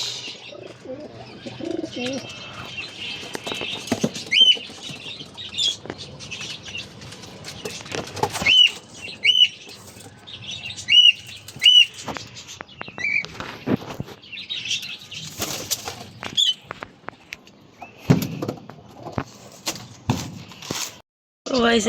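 Caged pigeons flap their wings in bursts and flutter around the cage, with soft coos and chirps of other birds nearby and a voice talking intermittently.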